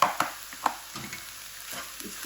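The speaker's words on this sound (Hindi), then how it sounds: "इसको एक बार हम मिक्स करते" A spoon stirs chili flakes, red chili powder and turmeric into a keema mixture for Arabic-style kachori, giving a few close, soft scraping knocks and a light sizzling hiss, with no talking.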